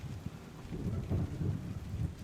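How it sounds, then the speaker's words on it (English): Heavy rain pours steadily during a storm, with a dense, continuous hiss and low rumbling gusts. It is fairly faint and carries no voices. "So it's been raining non-stop for a whole week"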